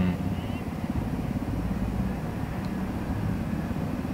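Aircraft engine drones steadily in Ghost Recon Wildlands, a loud, low, constant rumble filling the scene from inside the plane.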